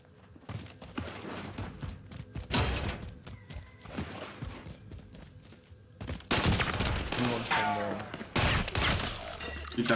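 Video game gunfire crackles in several rapid bursts amid thuds and footstep-like clatter, the shots coming in short clustered volleys that grow louder and denser toward the end, with no clear speech.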